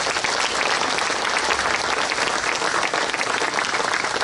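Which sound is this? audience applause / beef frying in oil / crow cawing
audience applause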